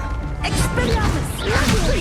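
An Expelliarmus spell is cast in the Hogwarts Legacy graveyard duel, a whooshing crack and smash layered with dense game effects and music, loud and continuous over about two seconds.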